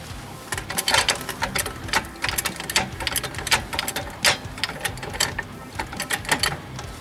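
A jack raising the rear strut of a 2000 Toyota Camry XLE, heard as close, rhythmic bursts of sharp mechanical ratcheting clicks that repeat steadily with brief pauses between strokes.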